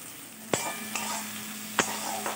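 Spices with tomato, salt, turmeric and Kashmiri chilli powder sautéing in a pan for a mustard-poppy katla fish curry: a soft continuous sizzle with a few sharp stirring knocks, close up and with no voices.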